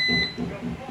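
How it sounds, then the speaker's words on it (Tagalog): An air fryer with a 5.5-litre basket gives a high electronic beep when it finishes cooking, a short steady tone that stops abruptly, heard near and clear over faint kitchen background. "Then it will beep."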